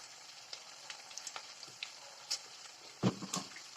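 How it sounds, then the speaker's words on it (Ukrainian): Carrots frying with onion and meat in a pan, a quiet sizzle under scattered soft stirring scrapes, with one louder knock of the utensil near the end. "І нехай морква добре підсмажиться з е, цибулькою та з цим м'ясом."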